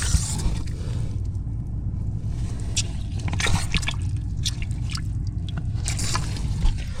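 Water leaking from an underground copper pipe beside a water meter, steady gurgling and trickling with scattered drips and squishy splashes, close and continuous.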